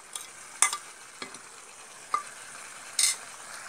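Goat head masala with ginger, garlic, coriander, mint and curry leaves being stirred in a pan, giving a few sparse scraping clinks of the spoon over a faint, steady sizzle.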